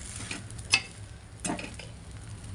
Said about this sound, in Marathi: हे बघा, आता इकडचं पण आपल्याला पलटून घ्यायचं